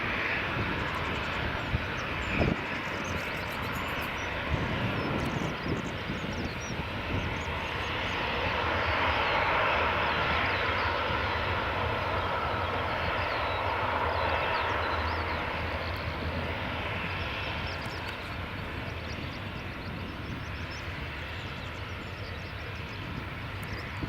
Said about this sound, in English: Loganair ATR just taxiing on one propeller.